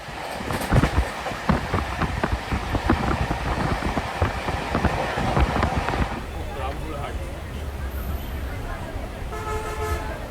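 The Kulik Express rolls along with rhythmic clatter of wheels over rail joints, then a long horn blast sounds, loud and near, with faint voices in the background.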